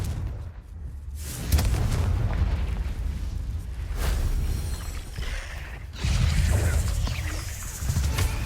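Spell blasts go off in Hogwarts Legacy with heavy, booming bursts, one crashing near the start and another a few seconds later, with rumbling and creaking mechanical effects in between and no voices.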